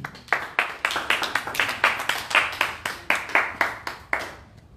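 A church congregation claps in unison to acclaim Jesus at a French-language gospel ministry service, about twenty crisp, even claps in a steady rhythm that fade out at the end.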